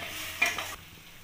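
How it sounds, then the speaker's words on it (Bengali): A spoon stirs cashew and melon seed paste into masala in a pan for a pointed gourd dolma, giving a short scrape and soft sizzle that fades to a low simmer. "এবার আমি মশলার সাথে ভালোভাবে নাড়িয়ে নেব।"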